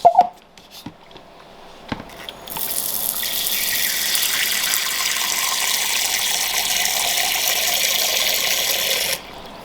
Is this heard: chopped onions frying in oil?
no